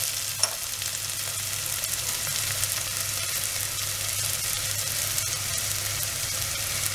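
Tomatoes sauté in a pan for a paneer pulao, giving a steady, even sizzle and hiss that runs throughout with no talking.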